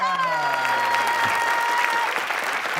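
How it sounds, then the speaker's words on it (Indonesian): A crowd claps in a brief burst of applause, a dense, steady patter that carries on under a voice and some tonal music. "Iya, tepuk tangan."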